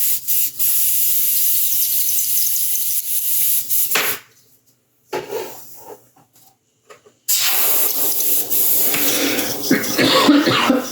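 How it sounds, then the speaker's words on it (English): Airbrush spraying Mr. Color clear brown paint onto a 1/6 scale Predator sculpt, steady close hissing bursts separated by near-silent pauses, with a cough in between. "So I'm going to clean out airbrush and do the clear brown from Mr."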